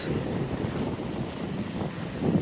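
Sea waves roll onto an Odesa beach near a breakwater, a steady broadband wash of surf mixed with strong wind rumble on the microphone, continuous and fairly loud throughout with no talking.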